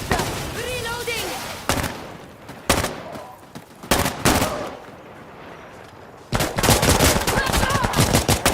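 HK416 rifle fire in the video game Insurgency Sandstorm: several sharp, loud bursts and single shots spaced over a few seconds, then sustained rapid fire at the end, with brief shouted voices early on.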